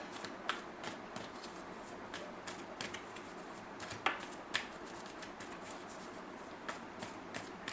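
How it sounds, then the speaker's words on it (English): Tarot cards shuffled by hand, a quiet steady riffle of papery slides and soft flicks broken by sharper snaps as cards are pulled and set down for a spread, close and alone. "And let me just now pull the cards for the spread."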